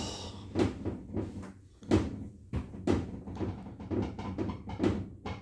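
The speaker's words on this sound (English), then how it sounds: "Lift going up, doors opening." Lift doors opening in a Guideline lift at a shopping centre in Hempstead Valley, Gillingham, heard as a series of repeated clunks and thuds at a fairly even rhythm over a low steady hum, fairly close.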